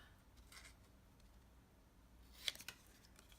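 Scissors snip paper while trimming a craft piece: a quiet stretch, then two or three quick, crisp cuts close by near the end.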